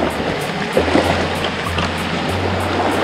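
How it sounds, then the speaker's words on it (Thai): Fast-flowing stream water rushes steadily at Krok I Dok waterfall in Khao Yai National Park, a dense, close, continuous wash with a low rumble underneath, no voices over it. "เนี่ยครับโอ้โหน้ำไหลแรงมาก"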